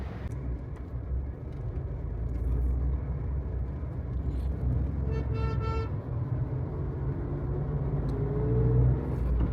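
A car cruises along a highway at night with a steady low road rumble and engine drone throughout, and a short horn toot cuts in near the middle.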